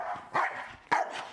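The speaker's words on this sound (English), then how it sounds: "No, when you're barking." Two sharp, close dog barks sound about half a second apart, with quieter whining sounds between them.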